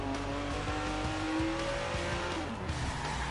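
Car in the Watch Dogs video game driving hard, a sustained engine roar with rising and falling tire squeal tones running loud and close throughout.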